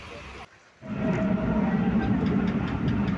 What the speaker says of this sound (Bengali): ট্রেনের গতি ধীরে ধীরে কম হচ্ছে